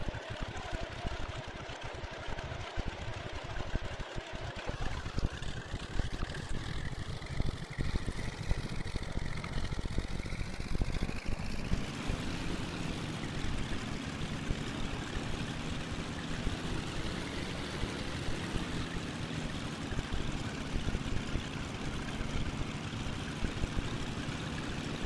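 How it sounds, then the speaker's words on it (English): A Cessna 310L engine cranks and catches in the X-Plane 11 flight simulator, a long starter whir that swells into a rough, rising engine drone around five seconds in and then settles into a steady running hum. "you got to hold the starter for like 10 seconds with this airplane"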